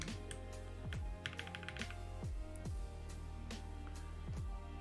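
Typing on a keyboard fitted with Analog Dreams keycaps makes faint, soft clicks in short clusters over a steady low background hum.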